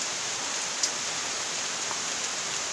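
Steady heavy rain hisses at an even, close level with no break and no voices, broad and constant like a downpour drumming on nearby surfaces.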